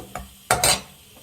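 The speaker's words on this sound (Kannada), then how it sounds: "ಫ್ರೆಂಡ್ಸ್ ಒಂದು ಸ್ವಲ್ಪ ಚೆನ್ನಾಗಿ ಫ್ರೈ ಮಾಡಬೇಕು" Jaggery being fried in a pan for bisi bele bath: three quick scraping, sizzling bursts of a spatula stirring, close and fairly quiet, with a faint hiss in between.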